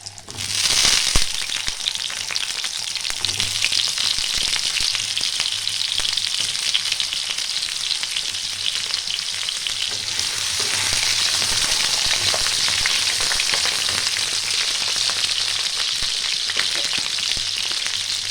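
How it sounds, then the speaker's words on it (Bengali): Potatoes fry in hot oil for a vegetarian Bengali broccoli curry, giving a loud, steady, dense sizzle with scattered crackles and pops that continues unbroken throughout, with no talking. "তেল দিয়ে আমি আলুগুলো ভালো করে একটু লাল লাল করে ভেজে নেব।"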